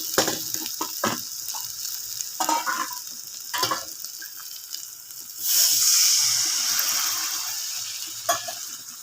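A spice paste of turmeric, cumin, chili and coriander is sautéed with water in a pan, with intermittent scraping stirs over a soft sizzle, then a sudden loud hiss as water hits the hot pan and fades slowly.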